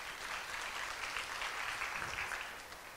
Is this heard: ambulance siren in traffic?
no